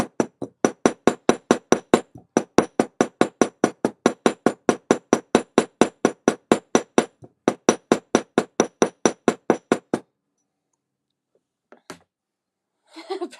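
Steady hammering, dozens of sharp, evenly spaced metallic strikes in quick runs broken by short pauses, loud and close, ending in a few scattered knocks after a silent gap.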